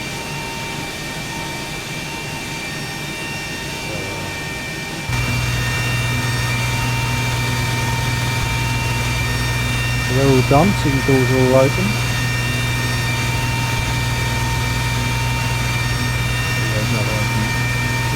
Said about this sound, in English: turbines are just running slightly.